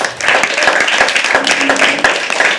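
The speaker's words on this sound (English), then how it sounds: "Great clapping, guys. Great clapping. Amazing clapping." An open mic poetry audience claps steadily for a first-time performer, with dense, continuous applause from a room full of people lasting throughout, a few sharper individual claps standing out.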